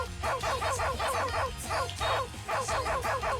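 A dog barks and yips in rapid, rhythmic bursts, a fast repeated run of high, close barks with slight whimpering tones, loud and continuous.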